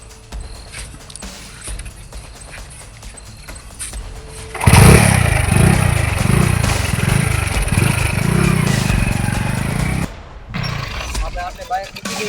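A motorcycle engine bursts into a loud, close, throbbing run about halfway through, pulsing steadily, then drops off near the end, with voices talking around it.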